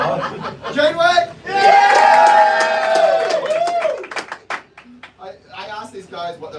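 A live comedy-show audience cheers and claps loudly for a couple of seconds amid laughter, with a host's voice talking before and after the burst.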